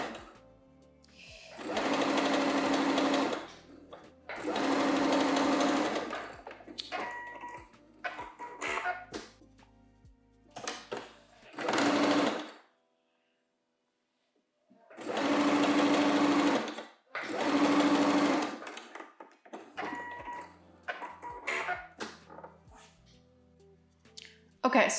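A sewing machine runs a long straight basting stitch on swimwear fabric in four or five steady bursts of a few seconds each, separated by pauses with soft handling taps and clicks.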